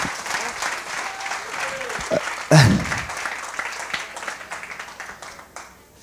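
An audience at a pitching challenge during a strategic thinking workshop and expo applauds steadily for several seconds, with a brief louder burst midway and voices mixed in the crowd.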